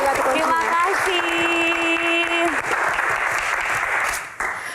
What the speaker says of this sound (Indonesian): tepuk tangan sekali lagi untuk Prilly Latuconsina